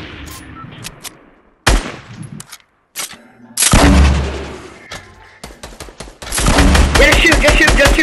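Bursts of gunfire in a Fortnite match, loud sharp shots and rapid volleys clustered in several bursts, with heavier sustained firing near the end and voices in between.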